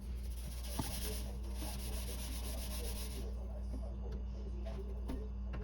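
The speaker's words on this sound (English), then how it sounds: "I'm gonna scrub just a light layer over the whole sink" Steady abrasive scrubbing with borax on a stainless steel sink, a continuous rough rubbing with a few small clicks, close and unbroken for several seconds.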